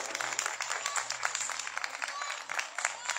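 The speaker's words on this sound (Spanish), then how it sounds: "Fuerte el aplauso para él," Steady applause from a crowd, many hands clapping in a fast, even patter that fills the whole stretch.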